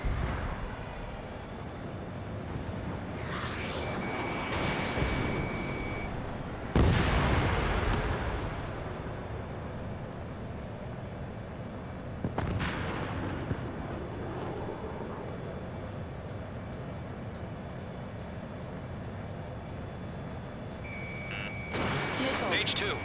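Missile launches and explosions in the video game Ace Combat 7, with a few sudden loud bursts and whooshes standing out over a steady jet-engine roar, plus beeping lock-on tones.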